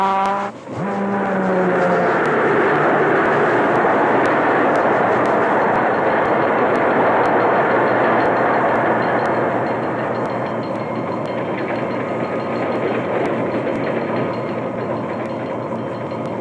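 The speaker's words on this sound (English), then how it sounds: "Now Mr. Schroeder closes the throttle to slow down the train" A 1940 Baltimore & Ohio passenger train runs steadily on the rails, giving a loud, continuous rumble and clatter close by, with a brief horn-like tone at the start. No one speaks over it.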